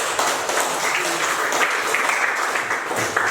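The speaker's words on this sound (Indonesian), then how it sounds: "tepuk tangan untuk" A crowd claps steadily in a dense, continuous patter of applause throughout.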